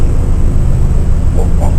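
A steady low rumble of a helicopter passing overhead, dense broadband drone filling the clip with faint higher tones swelling near the end.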